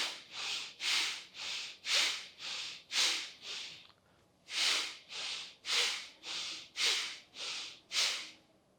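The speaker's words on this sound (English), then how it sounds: "So this is the Kapalabhati pranayama" Forceful Kapalabhati pranayama breathing, sharp rhythmic nasal exhalations in two bursts of about seven each, with a short pause between, close and clear, no talk.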